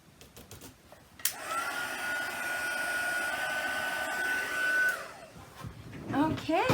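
A heat tool blows with a steady whirring hiss while heat-embossing a white sentiment on a card, starting abruptly, running for a few seconds, then cutting off before a voice speaks.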